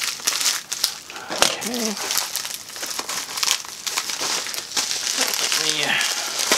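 Plastic packaging crinkles and crackles close by as a Louis Vuitton bag is unboxed, a steady rustling broken by short tearing bursts, while someone speaks briefly.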